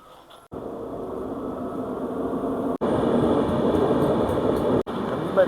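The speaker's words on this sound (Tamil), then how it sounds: "ட்ரெயின் வந்துச்சு, ட்ரெயினை பார்க்கலாம்." A train rumbles steadily close by, a continuous low roar with a few abrupt cuts, rising slightly louder midway; no talking.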